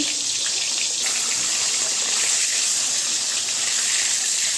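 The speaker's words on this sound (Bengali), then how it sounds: "ভাবলাম ভেজে কড়ার মধ্যে মাছ দিয়ে দিয়েছি" Tilapia fish fry in oil in a kadai with a loud, continuous bright sizzling hiss that holds steady from start to finish, with no voices over it.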